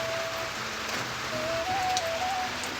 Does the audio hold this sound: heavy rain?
yes